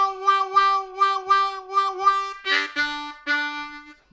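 Harmonica playing a classic blues turnaround lick: a run of wavering, bending reedy notes, then a few held tones at the end, close and solo with no talk.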